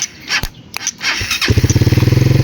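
A motorcycle converted from carburetor to fuel injection is cranked on its starter button: after a few clunks and knocks the engine catches and settles into a rapid, loud, even putter, close by.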